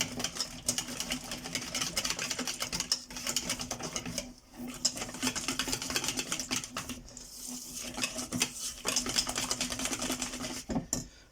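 Chocolate mixture stirred in a bowl, a continuous rapid clicking and scraping of the utensil against the bowl with a few brief pauses, close and fairly quiet.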